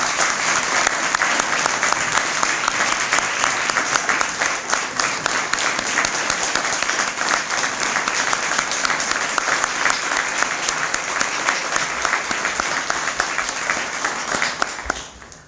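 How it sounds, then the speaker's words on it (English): A large audience at an awards ceremony for teachers and students gives a sustained round of applause, dense and loud throughout, fading slightly at the very end. "Let's have one round of applause, final round of applause for our STAR teachers and STAR students"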